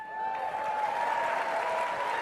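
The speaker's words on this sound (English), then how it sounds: "Another round of applause." Audience applause at a talk, a continuous even wash of many people clapping from start to finish, with a faint steady tone ringing underneath.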